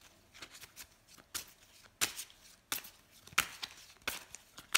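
Lenormand cards shuffled by hand for a cross-spread card reading, a series of soft, close riffling snaps repeating every half second or so, quiet and alone.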